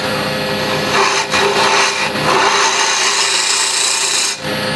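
A tool scrapes a spinning walnut burl on a wood lathe, giving a steady, loud, close rasping hiss with slight swells and dips as the cut changes. The motor hums underneath.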